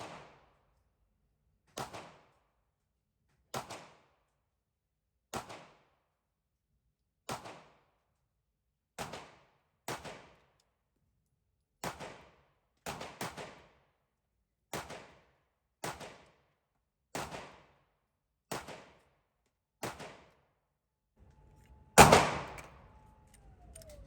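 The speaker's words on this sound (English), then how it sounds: "Gonna shoot one more mag of Full Metal Jacket 150 grain" A pistol fires a magazine of 150 grain full metal jacket rounds through a Shield Arms Z8 magazine: about fourteen sharp single shots at a slow, fairly even pace, then a louder, clattering burst near the end.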